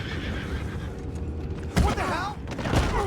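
Horses whinny and neigh sharply twice over a busy background of hooves and creaking in the Red Dead Redemption 2 game world, close and loud.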